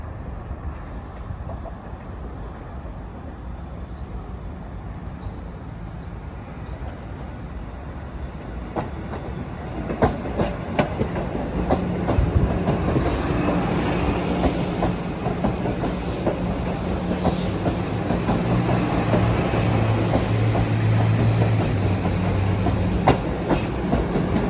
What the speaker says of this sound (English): Here comes a Wonderland train.